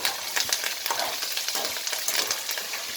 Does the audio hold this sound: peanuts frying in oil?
yes